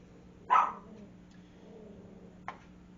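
Dogs indoors give one loud, close bark followed by a fainter, shorter yip about two seconds later, over a low steady hum, reacting to a washing machine draining.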